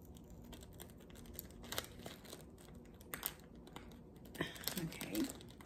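An individually wrapped, branded planner item from a Cloth & Paper planner box being pulled open, with faint crinkling and tearing of the wrapping in short bursts, growing louder near the end over a quiet room.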